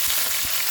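Mustard seeds, dried red chillies and turmeric sizzling in hot oil, a steady bright hiss of frying with faint crackles, close and continuous with no talking.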